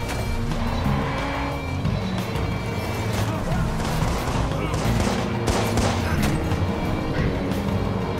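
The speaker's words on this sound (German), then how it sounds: "Ich versuche ihn zu rammen." A car ramming another car in the open-world game Watch Dogs: steady engine roar, tire squeal and crunching impacts, with gunfire mixed into the dense, continuous chaos.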